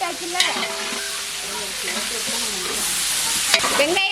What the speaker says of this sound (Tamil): பச்சை மிளகாவெல்லாம் நல்லா வதங்கிடுச்சு